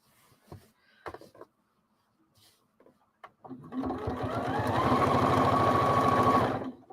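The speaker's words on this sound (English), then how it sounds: "I'm gonna backstitch at the corners. It adds a little bit of reinforcing." Sewing machine backstitching at the corners of a quilt, with a few soft clicks and handling noises first, then a fast, close, steady motor stitching run lasting several seconds.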